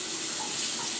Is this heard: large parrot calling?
no